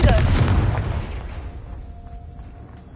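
Confringo fire blast spell from Hogwarts Legacy, a loud booming explosive burst at the start that rumbles and decays over a few seconds into a quiet tail with a faint lingering tone.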